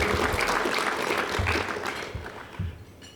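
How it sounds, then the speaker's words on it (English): An audience at an engineering awards presentation breaks into steady applause, a full crowd clapping for a few seconds before it thins out, with a few low knocks underneath. "Round of applause for that."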